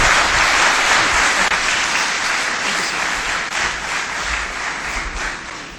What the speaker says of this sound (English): Can we please give the panel a big round of applause?